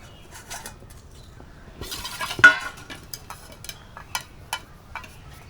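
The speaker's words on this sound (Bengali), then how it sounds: "এখানে আমি নিয়ে নিয়েছি দুটো স্টিলের থালা" Two steel plates clatter and clink as they are set down and handled in a home kitchen while preparing steamed maida papad; a sharp metallic clank stands out amid lighter scattered taps, close by and with no talk.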